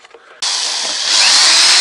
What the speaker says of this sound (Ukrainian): Ставимо шурупи.